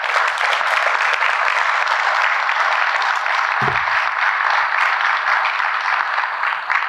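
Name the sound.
audience applause for employees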